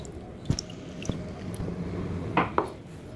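Water is added to soaked sago in a pot and stirred with a spoon, giving a few scattered clinks, soft wet squishes and scrapes against the vessel over a quiet background, with no talking.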